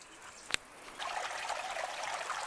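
Water from a pump runs steadily through a small gold cleanup sluice fitted with a silicone mat and mini nugget traps, a continuous close trickling wash after a single sharp knock.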